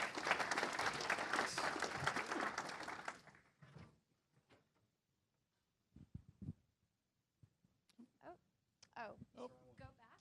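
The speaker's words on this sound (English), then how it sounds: "clap your hands for Brent Salina from Microorganic Technologies" Applause from a conference audience at a cleantech startup showcase for a presenter, a dense wash of clapping lasting about three seconds before fading into scattered voices and talk.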